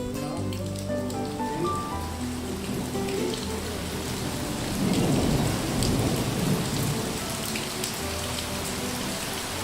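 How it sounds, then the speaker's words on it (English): Heavy rain pours steadily in the Sahara, near Tiznit, Morocco, the first rain there in two years, with a deep rolling rumble of thunder swelling midway through the continuous downpour. "for the first time in 2 years it's raining here"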